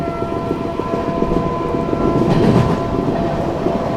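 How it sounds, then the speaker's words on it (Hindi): The 12417 Prayagraj Express runs past Etawah Junction without stopping, its steady loud rumble and rattle of wagons continuous throughout, swelling slightly near the middle, with no voices. "यहाँ इटावा जंक्शन स्किप कर रही है अपनी ट्रेन"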